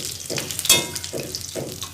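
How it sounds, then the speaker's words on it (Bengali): Fresh pond fish fry in hot oil in a wok, the sizzle swelling in four short bursts as pieces are added and stirred, close and fairly quiet. "এবার আমি মাছ দিয়ে দেবো, একে একে আমি সমস্ত মাছ দিয়ে দেবো।"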